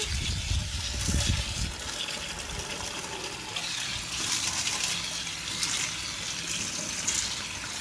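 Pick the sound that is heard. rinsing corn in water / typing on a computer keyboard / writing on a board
rinsing corn in water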